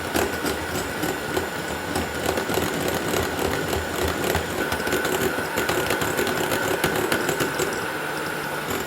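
Electric stand mixer whipping meringue with added sugar at speed 4, a steady dense mechanical whir with constant rattling that stays loud and even throughout.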